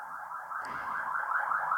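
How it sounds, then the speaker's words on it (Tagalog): Ambulance siren outside, a wailing, rising and falling electronic tone repeating in quick cycles, moderately loud and heard alone. "Ang ingay ng ambulance."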